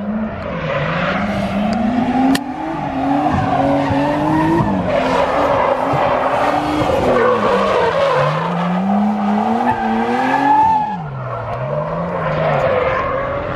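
A car drifting with tires skidding, giving a loud, continuous tire squeal that rises and falls in pitch over a steady engine drone for the whole stretch, close and with no talking.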